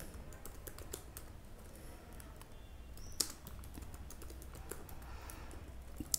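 Quiet keyboard typing while someone enters code, brisk irregular key clicks throughout with a couple of sharper strokes standing out.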